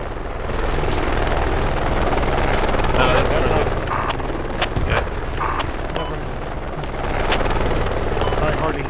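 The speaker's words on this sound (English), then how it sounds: "Little bird helicopter." A Little Bird helicopter in the military video game Project Reality drones loudly and continuously, its rotor hum steady throughout, with occasional heavier thuds from the battlefield mixed in.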